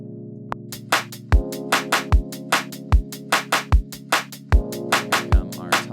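Hip-hop beat with sustained held piano chords under punchy kick drums and crisp snare and hat hits in a steady, loud rhythm, no voices.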